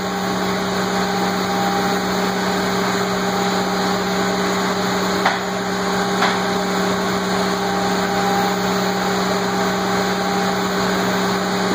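A CNC router spindle on a Mach3 MachMotion-controlled machine runs at full speed with a steady, loud mechanical whine and fixed tonal hum, joined by two faint brief clicks partway through.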